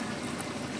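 Water flows steadily into a deep water culture hydroponic tank, a brief continuous trickling, gurgling wash at close range with no voices.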